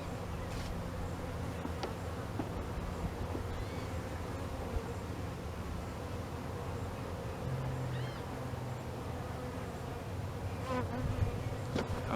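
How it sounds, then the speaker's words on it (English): Dense buzzing of honey bees, steady and close, as a mass of them is poured into a hive, a continuous drone running through the whole stretch. "I just don't want to crush the bees"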